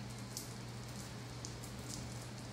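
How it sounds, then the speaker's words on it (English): Rain falling during a thunderstorm, heard from a porch or garage: a faint, steady hiss of rainfall with scattered drops pattering on a surface, continuous and without voices. "It is thundering and lightning and raining."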